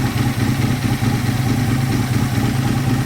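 An Aprilia RSV 1000 motorcycle engine from 2000 idles steadily up close, a loud, continuous throbbing rumble with a regular pulsing beat and no voices.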